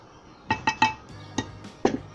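A spoon clinks against a bowl while flour is stirred into raisin pound cake batter: a quick run of three sharp clinks, then a few more spaced taps, close and fairly quiet.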